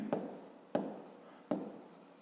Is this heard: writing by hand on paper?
yes